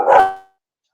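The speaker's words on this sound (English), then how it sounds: "There's the dog." A dog gives a single loud, close bark that dies away quickly into silence, heard during a public meeting about an energy storage project.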